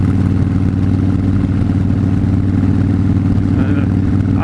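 A motorcycle engine drones steadily while riding, a loud, close, continuous low rumble with an even tone throughout and a faint voice now and then.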